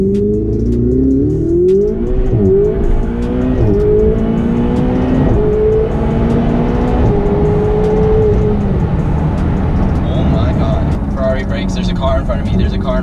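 Engines of cars in a driving video game rise and fall as they accelerate and rev, a loud, steady roar with shifting pitch, while a person talks excitedly over it.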